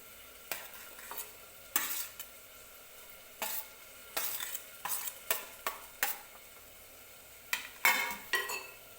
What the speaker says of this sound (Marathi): खोबरं व्यवस्थित भाजून घ्यायचं आहे आपल्याला करपवायचं नाही